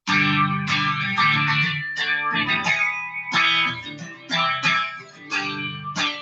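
An electric guitar with distortion and chorus effects strums a I–V–vi–IV chord progression, about four sustained chords that swell and ring in turn, played alone without any talking.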